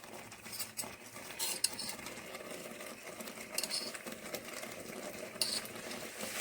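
A spoon adds ghee to semolina cake batter, scraping and clinking against the bowl in uneven strokes, close and fairly quiet, with a steady background hiss.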